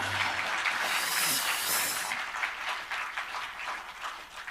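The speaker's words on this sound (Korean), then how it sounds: "오늘 이 행사를 기획하시고 또 주관하시고 적극적인 지원을 해주신 우리 정광훈 목사님께 먼저 큰 박수를 보내주시기 바랍니다." An audience at a political party and civic group meeting claps steadily in a dense, loud burst of applause that tapers slightly toward the end.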